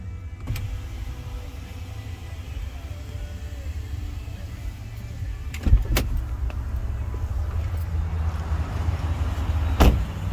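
Sunroof motor on a 2019 Ram Sport truck whirring steadily at low pitch for several seconds, with a couple of brief clicks or thumps near the middle and end, no voices.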